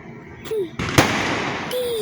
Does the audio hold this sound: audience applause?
no